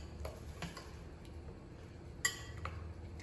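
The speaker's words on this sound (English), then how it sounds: "Now just stir it up." A spoon stirs bread pudding mixture with nutmeg in a bowl, giving faint, sparse clinks and taps against the dish, with one sharper knock partway through and quiet room tone between.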